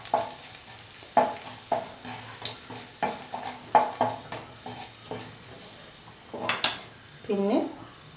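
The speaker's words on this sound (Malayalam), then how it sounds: "നമുക്കതിലേക്ക് ലേശം കടുക് ഇട്ട് പൊട്ടിക്കാം" Mustard seeds pop and fry in hot oil while pineapple thoran is being made, with a series of sharp, close pops and light sizzling, plus a few pan and utensil clinks near the end.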